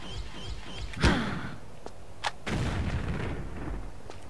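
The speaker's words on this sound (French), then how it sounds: "Et puis ça m'a renvoyé une grenade en plus." Grenade explosion in Tomb Raider 4, a single sharp blast followed by a short rumbling decay, then a brief thud and lingering game ambience.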